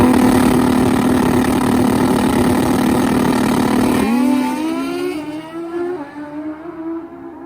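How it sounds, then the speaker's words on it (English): A nitrous Suzuki GS and a turbo Hayabusa drag bike race side by side at the strip, a loud sustained engine roar that holds steady and then winds down as the bikes pass and fade. "And Mark Rissling, his Nitrous Suzuki GS, up against the Turbo Hayabusa near lane."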